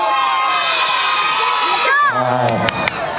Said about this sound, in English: Cheer for your classmate.